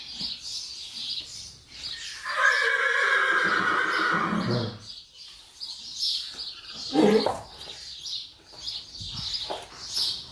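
Two stallions interact, one of them a 21-year-old, with a long loud whinny rising clearly, then snorts and softer calls, while birds chirp faintly in the background.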